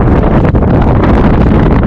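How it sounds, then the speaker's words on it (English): Strong wind gusts buffet the microphone on an outdoor tennis court, producing a loud, continuous low roar and rumble throughout, close and without any talk. "the wind really went against me in that game"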